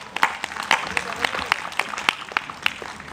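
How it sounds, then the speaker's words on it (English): A small workshop audience claps for a drummer called back on stage at a Bhangra dance lesson, scattered sharp individual claps rather than a full ovation, with speech running underneath. "Bulla Singh, give him a round of applause"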